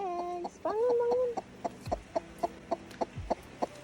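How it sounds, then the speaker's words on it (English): A hen sitting on a clutch of eggs on a small farm in Bali gives a drawn-out cluck followed by a steady run of short, evenly spaced clucks, close and clear, with no one talking. "We have a chicken here, and she is sitting on some eggs."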